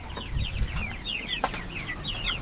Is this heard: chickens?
yes